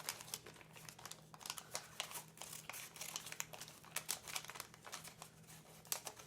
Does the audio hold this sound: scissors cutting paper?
yes